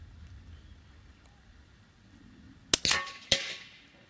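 A CZ 457 rifle fires at a target 100 metres away outdoors: a sharp close crack with a brief ringing tail, followed moments later by a second snapping report, over quiet ambient background.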